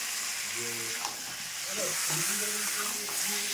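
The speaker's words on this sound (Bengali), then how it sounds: "তো আমি চিকেনটা ভালো করে একটুখানি নাড়িয়ে চাড়িয়ে একটু ভাজা ভাজা করে নেব।" Chicken frying in a pan at home, a steady sizzle under a voice talking throughout, with faint stirring scrapes.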